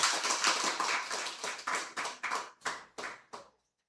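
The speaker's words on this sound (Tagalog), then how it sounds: "Pwede ba isang malakas na palakpak para kay Lord doon?" Church congregation clapping hands together for about three and a half seconds, starting as dense applause and thinning into a few separate, loud claps before stopping abruptly.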